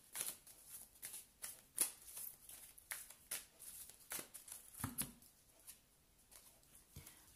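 Tarot cards are shuffled by hand close by, producing soft, quick riffling and flicking bursts in an uneven rhythm, quiet overall with no talk.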